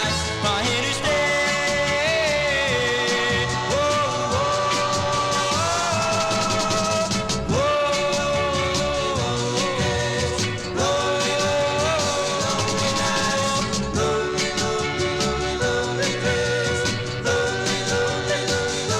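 A 1963 Chelsea vinyl record of a doo-wop tune plays continuously, with sung vocal melodies over steady backing at moderate volume and no talking over it.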